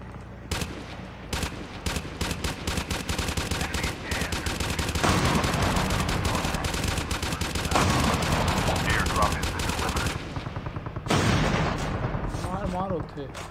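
Rapid gunfire from the mobile shooter game Call of Duty Mobile, with dense bursts of automatic shots and heavy blasts running almost continuously, loud and close, as a player talks over the action.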